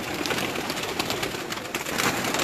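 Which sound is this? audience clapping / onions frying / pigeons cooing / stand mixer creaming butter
pigeons cooing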